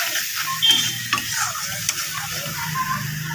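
Spice paste with salt and turmeric stir-fried in a pan for a soybean and potato dish, a loud close sizzle with constant scraping and stirring strokes and no talk.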